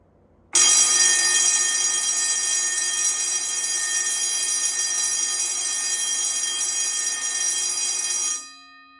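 A loud GS fire alarm bell rings nonstop for around eight seconds, a rapid, dense metallic ringing that cuts in suddenly and trails off at the end.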